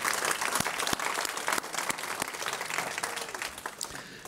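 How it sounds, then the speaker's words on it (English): Audience applause at a library fundraising dinner, a loud, dense round of clapping from a crowded room with a few sharper individual claps standing out, continuing steadily without speech. "would like to acknowledge them with a round of"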